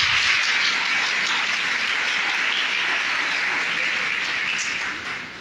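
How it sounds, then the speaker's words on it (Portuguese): Loud, sustained applause from a church congregation fills the space as a dense, even wash of clapping that holds steady throughout and tapers only slightly at the end. "Então dê a melhor salva de palmas à palavra de Deus."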